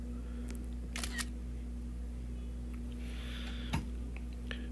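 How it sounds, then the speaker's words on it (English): A single soft camera-shutter click from a phone, faint against a steady low hum, with a few tiny ticks around it. "if you've done it right, you'll get a little clicking sound"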